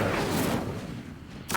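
Incendio fire spell cast in the Hogwarts Legacy video game: a dense, roaring burst of flame noise that fades over about a second, then a short sharp flare near the end, with no talk.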